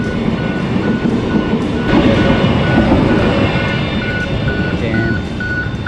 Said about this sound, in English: Just a normal passenger train.